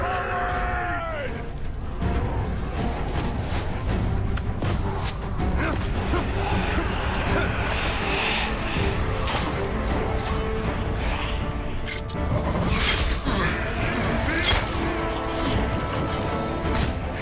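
Crashing, banging siege chaos as a gate is smashed in the Middle-earth: Shadow of War gameplay trailer, with dense booms, creaks and impacts over a continuous loud roar, and voices mixed into the din.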